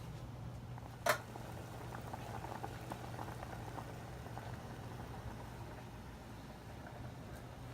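Water boils steadily in a pot for ramen noodles, a soft continuous bubbling hiss with one brief clink near the start.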